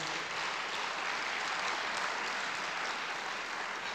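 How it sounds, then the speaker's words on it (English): Applause from a congregation at an evening Shabbat service marking Martin Luther King Jr., a dense, even wash of clapping held at a moderate, somewhat distant level throughout with no voices. "We need to applaud them for what they're doing."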